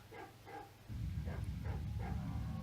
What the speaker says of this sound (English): And now the dog is barking and she's going to get all concerned.